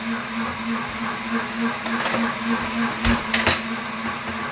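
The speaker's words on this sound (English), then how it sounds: "I'd rather have the noise and let the blender clean itself" A blender self-cleaning after zesting lemon whirs steadily with a constant motor hum, punctuated by a few sharp rattling clicks near the end.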